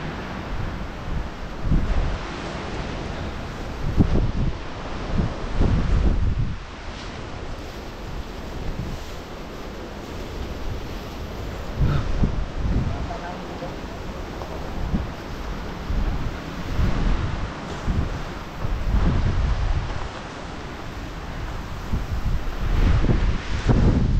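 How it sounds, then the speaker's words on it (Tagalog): Strong wind on a northern coastline in Ilocos Norte, Philippines, buffets the microphone in loud, gusting bursts over a continuous surf-like roar, rising and falling in waves for the whole stretch with no voices. "Ang lakas ng hangin."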